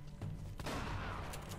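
Shotgun blasts in Uncharted: Drake's Fortune Remastered: a few sharp reports spaced irregularly across a short burst, over a low rumbling game background.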